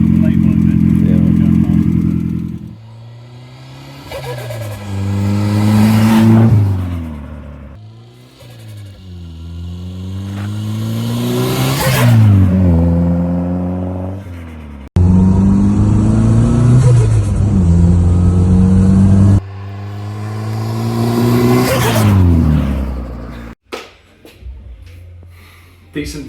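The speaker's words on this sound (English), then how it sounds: "Decent first rip in the van. Obviously just down the lane, around the yard, nothing crazy." A Maestro van fitted with a swapped 2-litre turbo engine drives and boosts, loud repeated revving climbs through the gears with rising and falling engine tone, close and dominant throughout.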